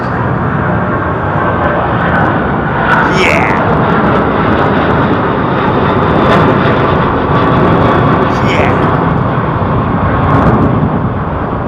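Airliner fitted with Rolls-Royce engines at London Heathrow, a steady loud broadband jet roar filling the whole stretch, with no break or fade.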